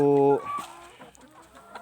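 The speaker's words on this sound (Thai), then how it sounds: "เป็นฟาร์มไก่นะครับ ฟาร์มไก่ ฟาร์มไก่ไข่" Laying hens on a small chicken farm give a brief burst of clucking, loud and close, then fade into quieter background noise.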